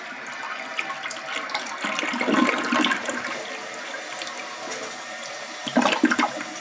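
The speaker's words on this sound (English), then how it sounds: "Another flush test of the Luxor Ventaway." A 1967 American Standard Luxor Ventaway toilet with a curved rim flushes, its water rushing in a steady surge and then swelling into a louder gurgling siphon near the end, close by with no talking.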